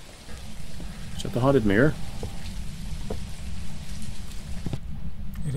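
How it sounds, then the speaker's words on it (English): Rain patters steadily against a window inside a haunted house in the game Phasmophobia, a constant wash beneath a voice talking briefly near the start. "how is rain hitting this window?"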